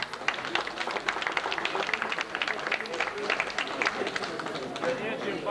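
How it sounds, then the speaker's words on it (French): An auction audience at a 2002 congress claps after a winning bid, a dense burst of many hands in quick, close, overlapping claps that holds steady for several seconds. "on peut l'applaudir"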